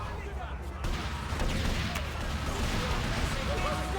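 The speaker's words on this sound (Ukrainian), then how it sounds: "Просто всі стріляють, всі одне одного ненавидять." Dense gunfire in GTA Vice City with overlapping shots and explosive bursts, loud and continuous, with voices talking underneath.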